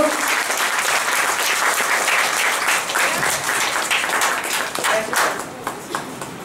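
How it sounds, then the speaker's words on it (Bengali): Sustained audience applause fills a college department event at Netaji Subhash Engineering College, dense and steady clapping from a large crowd that thins slightly toward the end with a few scattered claps standing out. "একবার জোরদার হাততালি"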